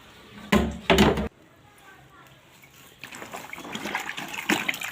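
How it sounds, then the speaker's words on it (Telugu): Water poured over a purple and green saree being washed, a splashy gush building after two short knocks and a quiet stretch, then continuing as a rough, moderately loud pour. "నీళ్ళిపోయమ్మా కొన్ని."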